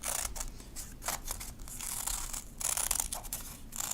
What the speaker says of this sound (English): So I'm going to start and just cut out my circle here.